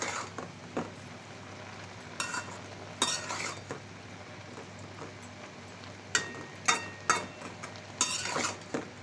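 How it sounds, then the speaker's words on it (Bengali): Helencha greens being stirred as they fry in a pan, with intermittent utensil clinks and scraping strokes over a low steady sizzle, the stirs arriving in short irregular bursts, close and fairly quiet. "হেলেঞ্চা শাকটা আমি নেড়ে দিচ্ছি।"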